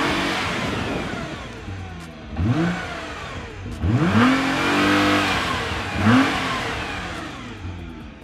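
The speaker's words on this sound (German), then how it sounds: "Wie jetzt die Miltec Auspuffanlage tönt, das zeige ich euch jetzt." A Nissan GT-R R35 fitted with a Miltec exhaust revs repeatedly from idle, three rising, throaty blips that swell and fall back to a steady burble, close and loud with no talking.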